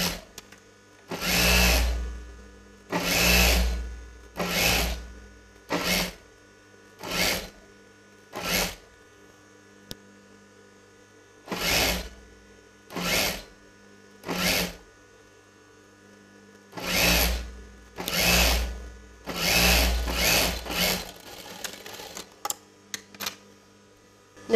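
A sewing machine stitches fabric for a chudidar front neck in a series of loud, close whirring runs, each a second or two long. Short pauses separate the runs, and a few quick taps come near the end.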